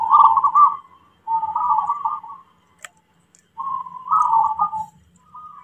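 Local zebra dove (perkutut) cooing in three separate phrases of rhythmic, mellow trilled notes, close and clear with short pauses between them, a faint tick in the middle gap.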